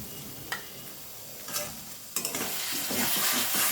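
Spiced yogurt mixed with cumin, coriander and turmeric powders goes into a hot kadai over lowered heat and is stirred in, with a few scraping clicks of the spoon before a steady, building sizzle fills the second half.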